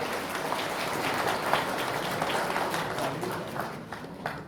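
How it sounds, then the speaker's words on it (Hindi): Crowd claps loudly and steadily at the inauguration of a sub-fire station in Bhalukpong, a continuous rain-like patter of many hands outdoors with no voices over it. "इसलिए और एक बार जोर से ताली लगाओ"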